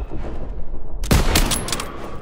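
Gunfire in a Call of Duty WWII battle, a sudden loud burst of rapid shots and blasts that erupts after a quieter rumbling stretch, followed by sustained crackling combat noise.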